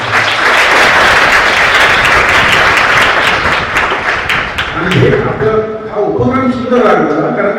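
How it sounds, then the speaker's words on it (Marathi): A crowd claps steadily and loudly at a ceremony honouring former servicemen. The applause fades after about five seconds, and a voice then begins speaking over the last of it. "त्यासाठी एकदा त्यांच्यासाठी सगळ्यांनी टाळ्या वाजवल्या"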